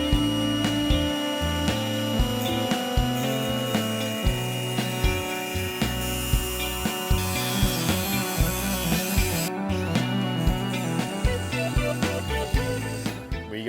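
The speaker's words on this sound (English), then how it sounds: "Angle grinder, cut that to length" Angle grinder cutting a metal roof rack mount to length for a 60 Series Land Cruiser, a loud continuous harsh grinding whine with rhythmic pulsing as the disc works through the steel, close and steady.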